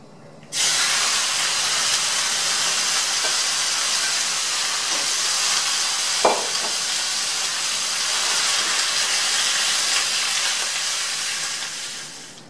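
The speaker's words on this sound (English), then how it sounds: "So I'm going to put in the meat. And we're just going to saute it, let it brown for maybe 3 minutes." Beef sautéing and browning in a hot pan for beef stroganoff: a loud, steady sizzling hiss that starts abruptly and continues evenly, with one brief sharper crackle partway through.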